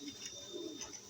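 Domestic pigeons kept by a fancier cooing softly in short, low, rounded calls, faint and distant against a quiet background.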